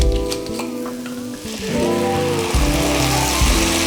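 Wine poured onto toasted rice for butternut squash risotto in a hot pan, bursting into a loud, steady sizzle that swells after the first second and hisses continuously, with music playing underneath.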